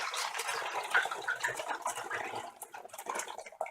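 Homemade ginger brew pours from a pot into a measuring jug, a steady splashing liquid stream running close and fairly loud for several seconds, with no talk over it.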